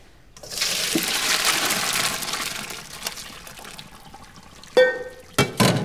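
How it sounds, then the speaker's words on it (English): A cup scoops hot pasta water out of a pot while cooking pasta with pecorino and pepper: a loud watery gush and slosh, then a few sharp clinks and splashes near the end. "take a cup and just take out some of the pasta water"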